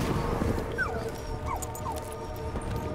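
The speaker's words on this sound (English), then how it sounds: "Your dog's not happy," An unhappy dog whimpers in a few short, thin descending whines at a distance, faint beneath a constant layer of game sound.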